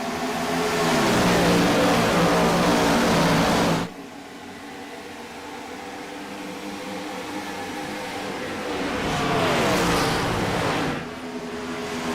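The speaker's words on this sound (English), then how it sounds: "You'll still hear the race cars making their way around the course" IROC Challenge Series race cars roar around Chicagoland Speedway. One loud pass fades abruptly, then a steadier engine drone swells into a second close rush before dropping away again.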